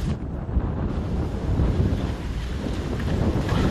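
Strong wind buffets the microphone outdoors during the Guadarun 2011 race, a steady roaring rush with low rumbling gusts that holds loud for the whole stretch, with no voices.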